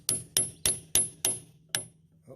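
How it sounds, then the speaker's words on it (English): A hammer strikes a 17 mm socket to drive a steering bushing back into a Bobcat 773 loader, six sharp metallic knocks at a steady pace, the last after a short pause, each ringing briefly. "We'll knock it back in with a 17 millimeter and a hammer"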